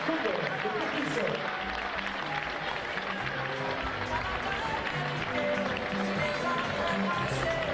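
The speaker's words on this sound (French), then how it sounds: "On applaudit Massosa Yuma, s'il vous plaît" Crowd applause for a veteran wrestler at a Congolese wrestling event, steady broadband clapping mixed with crowd noise and some talk throughout.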